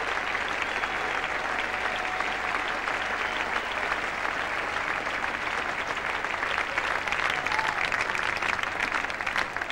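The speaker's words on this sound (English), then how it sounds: "the crowd rising to Roop, and the Australians too, giving him a great hand" Sustained applause from a large cricket crowd at the Oval in England, a dense, steady wash of clapping that holds throughout with no pauses and only faint background voices.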